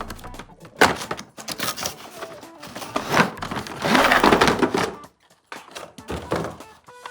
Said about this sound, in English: next I want unpacking this shotgun with 2 bullets